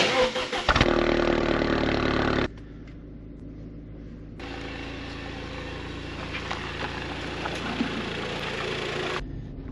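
A 2005–08 Audi A4 B7 with the 2.0 Turbo FSI engine runs after an oil change, its steady hum broken by a short quieter gap before the engine sound returns, close and continuous.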